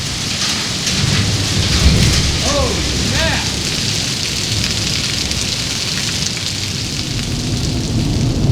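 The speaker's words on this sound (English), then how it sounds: "it just started dumping out. It's hailing." Heavy rain and hail pour down hard in a steady, loud roar outdoors, with a brief voice exclamation near the start.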